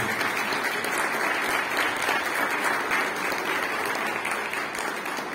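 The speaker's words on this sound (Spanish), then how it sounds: "vamos a darles desde aquí un fuerte aplauso" Concert audience applauding at an orchestral performance of Vivaldi's Gloria and Mozart's Coronation Mass, dense sustained clapping from a large crowd filling the hall evenly throughout.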